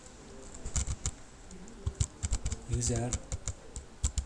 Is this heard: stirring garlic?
no